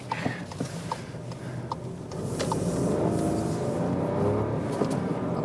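A Seat Ibiza picks up speed on the road with the throttle pushed hard, its engine hum rising into a steady, louder drone after a quieter start, with road rumble and no talking.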